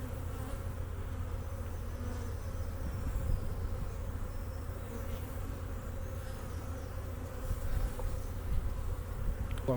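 A steady, dense hum of honeybees buzzing around a hive outdoors, continuous and fairly loud with no talking.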